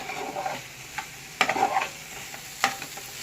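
Poha stirred in a frying pan, a few scattered scrapes and taps of a spoon against the pan over a low faint sizzle, close by and unhurried, with no talking.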